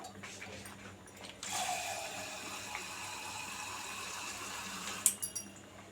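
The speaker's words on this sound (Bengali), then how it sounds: "আমি আবার হাফ কাপ পানি দিয়ে দিচ্ছি, দিয়ে এটাকে নেড়ে নেব।" Half a cup of water is poured into semolina halwa cooking in a pan. A sudden, steady rushing hiss starts and runs on, ending with a few light metallic clinks.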